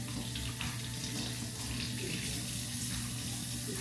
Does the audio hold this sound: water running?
yes